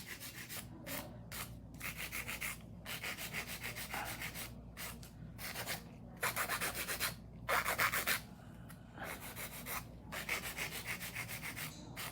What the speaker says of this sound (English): Maybe I'll do a little bit more filing